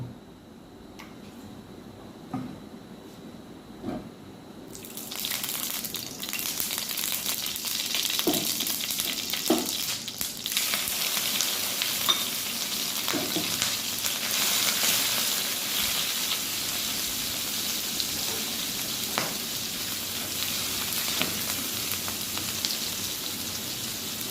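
Prawn heads fry in a little oil for a prawn curry, a broad hiss that starts abruptly a few seconds in after quiet clinks and then sizzles steadily and loudly to the end, with occasional stirring clatter.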